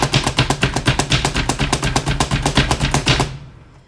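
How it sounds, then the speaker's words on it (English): A knife chops a red onion on a cutting board in a fast, even run of crisp, close taps, about seven per second, stopping abruptly near the end; no one speaks. "And I've got to split this red onion up."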